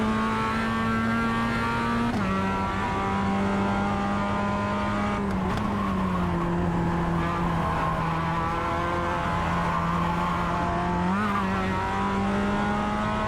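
A Mazda MX-5 race car in iRacing at the Nürburgring holds a loud, steady engine drone as it accelerates, the pitch climbing through gears with short dips at shifts and a faint tire squeal.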